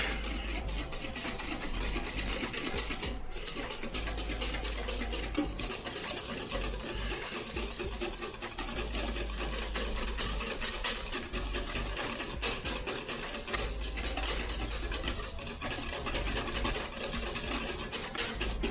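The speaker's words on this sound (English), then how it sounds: "Whisk all that thoroughly." Stand mixer whisking bun dough ingredients, a continuous loud rasping whir with fine rapid rhythmic scraping of the whisk in the bowl, steady throughout with no talk.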